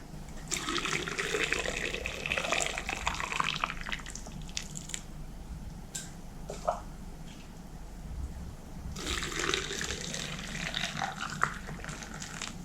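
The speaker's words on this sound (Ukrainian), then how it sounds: "три рази заливаю окропом і все добре" Boiling water poured over cucumbers packed in jars for pickling, a continuous splashing, gurgling stream that pauses briefly midway and then resumes, close and steady.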